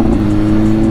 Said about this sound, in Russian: Нормально ты газуешь, девочка.